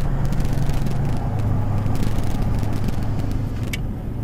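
Car driving into a marina with new boat slips, a steady low engine and road rumble holding close and even throughout, with no talk over it.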